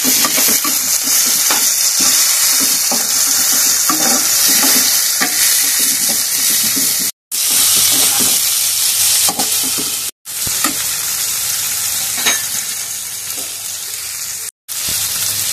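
Sliced cabbage and tomato stirred with noodles in a hot pan make a loud, steady sizzle and scraping of a spatula, close and continuous, broken by three brief silent gaps.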